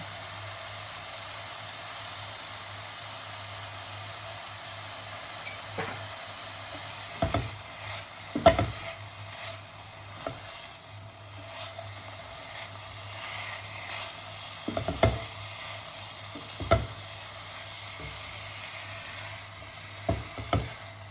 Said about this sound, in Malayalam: ഇത് നന്നായിട്ട് ഇളക്കി അടച്ച് വെച്ച് ചെറിയ തീയിൽ വേവി കൊടുക്കണം